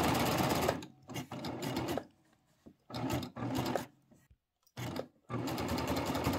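Baby Lock serger stitching around a fabric corner, fast whirring bursts of stitching broken by brief stops and pauses as the fabric is turned, close and quiet, no talk.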